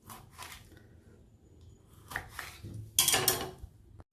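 A knife cuts a lemon into pieces on a board for pickle, giving a few soft, close chopping taps that grow louder toward the end, with no talk.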